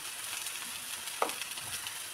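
Masala with red chilli powder sautéed in a pan for an Indian whole masoor dal dish, giving a faint, steady low sizzle with a single brief clink of the spoon partway through.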